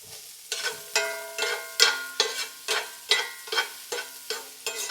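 Spinach for palak paneer stirred and fried in a pan, with a steady run of about a dozen scraping stir strokes over a soft sizzle, close and fairly loud with no talk.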